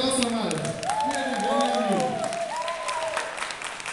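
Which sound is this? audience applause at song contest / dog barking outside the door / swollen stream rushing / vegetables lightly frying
audience applause at song contest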